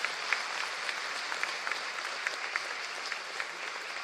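A crowd of doctors applauds at an official event with a state chief minister, producing an even, steady wash of clapping for a few seconds at moderate distance.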